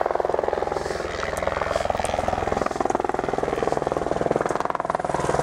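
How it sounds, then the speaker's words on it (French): A helicopter passes overhead during a long mountain trail race in the Swiss Alps, its rotor chopping in a steady, loud, rapid pulse that stays constant throughout. "L'hélico, il vient me photographier."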